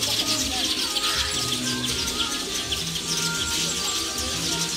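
Wild birds chirp and call in a Nile crocodile habitat, a dense, continuous chorus of tweets and coos at moderate distance with steady background noise and no talking.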